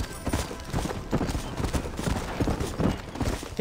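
Horse hooves clip-clopping in Red Dead Redemption, a steady, fairly close trotting rhythm of dull thuds that runs throughout, with no voices over it.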